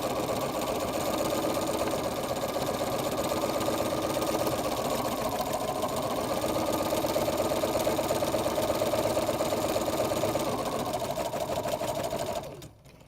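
A sewing machine stitches a buttonhole with a fast, even mechanical chatter that runs steadily and loudly, then stops abruptly near the end.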